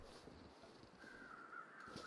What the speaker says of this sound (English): Oh, look, we got crows.